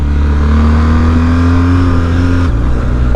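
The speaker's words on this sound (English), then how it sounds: "I'm just hearing tractor noise of the Boxer engine." Loud, steady drone of a BMW R 1250 GS motorcycle's boxer engine revving under load, its pitch climbing gradually before dropping abruptly as if shifting gear with a quick shifter.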